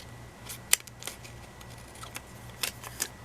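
Scissors trimming the white edges off a piece of paper while decorating a planner page: a few sharp, quick snips and paper rustles, close and quiet, with pauses between cuts.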